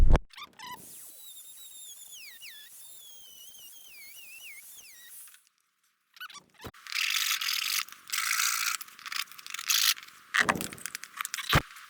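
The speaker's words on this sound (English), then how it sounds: "I'm just going to cut out this little section right here with my Dremel tool" A Dremel rotary tool cuts a small section out of a Guardian retractable transducer shield during a Hobie Outback kayak fitting. A few seconds of harsh, high-pitched grinding follow a stretch of thin whistling tones and a short pause.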